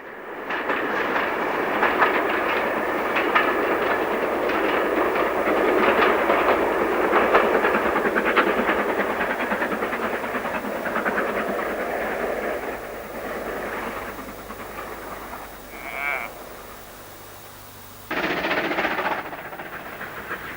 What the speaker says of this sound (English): Here, a Black 5 with a parcels train negotiates the Loon Gorge.